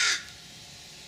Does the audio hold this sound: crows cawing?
yes